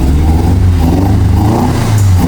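A Toyota 20-valve engine fitted in a car revs steadily and loudly close by, a continuous deep engine roar with no talk over it.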